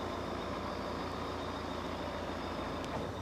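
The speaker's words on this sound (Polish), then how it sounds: "teraz opuszczamy platformę w dół" A FUSO Canter tow truck's platform lowers with a steady close engine rumble and low hydraulic drone, a constant pulsing hum throughout and no talking.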